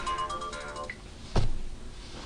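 A phone ringtone plays a brief melodic run of tones, then stops abruptly, followed by a single dull knock nearby.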